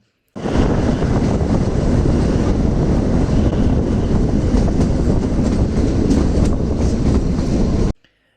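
Kalka to Shimla toy train running on its narrow-gauge mountain line, a steady loud rumble of wheels and carriages with rhythmic rail clatter, continuous from start until an abrupt stop.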